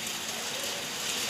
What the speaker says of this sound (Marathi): पाऊस चाललाय.